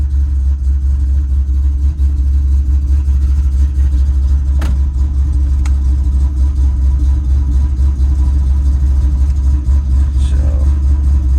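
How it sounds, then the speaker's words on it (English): A Mustang Bullitt engine running with a strong low-pitched drone after new spark plugs, steady and close, with faint clicks and rattles over it. "the car sounds much better than it did with the old spark plugs"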